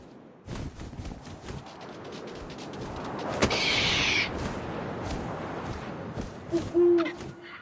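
An owl hoots in the video game What Remains of Edith Finch, a breathy call rising out of steady wind ambience, with a couple of sharper knocks and soft rustles nearby.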